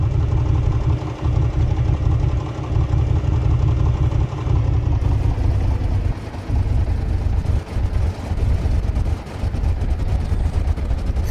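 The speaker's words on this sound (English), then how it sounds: "You can see and hear that cylinder misfiring." A low aircraft engine idles roughly in Microsoft Flight Simulator, its steady rumble broken by uneven stumbles and dips from a misfiring cylinder, nearly stalling, with no talking.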